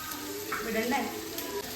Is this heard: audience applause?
no